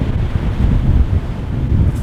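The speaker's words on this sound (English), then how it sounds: "you can really see as the wave crashes here" Ocean waves crashing over rocks during a hurricane, a loud, steady low roar of surf and blustery wind buffeting the microphone, with no talking.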